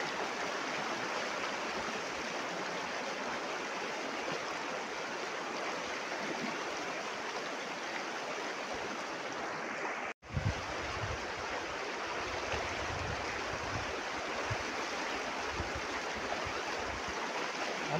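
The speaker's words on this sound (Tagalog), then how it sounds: "ang ilog oh. Malakas ang agos." Fast-flowing river water rushes in a loud, constant roar, with a brief dropout midway before the steady torrent resumes.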